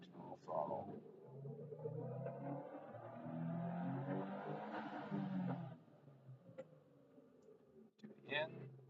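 A 2022 Subaru WRX with the FA24 engine and a Cobb tune pulling at full throttle: one steady rising engine sweep lasting several seconds, moderately quiet, then dropping off, with someone speaking around it.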